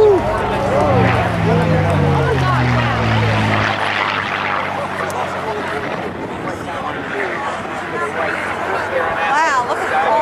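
A C-47 propeller transport flies past at the Jones Beach airshow, its deep engine drone sweeping down in pitch and fading into crowd babble as a voice talks over it.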